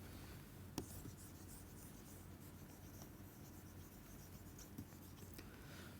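Pen or chalk writing steadily on a page or board during a math lecture, a continuous scratchy rubbing with a couple of sharper taps, close and moderately quiet with no talking.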